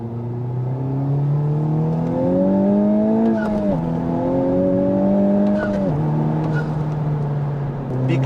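A 2020 Honda Civic Type R on R1R tires accelerates hard onto a highway, its engine note climbing through two gear changes with a loud, rising drone inside the cabin.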